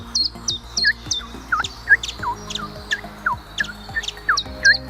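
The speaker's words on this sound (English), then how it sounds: "That's the Chiffchaff." A chiffchaff repeats short, high chirping notes in a steady, even rhythm, close and clear, with another call faintly in the background, beside the River Wye.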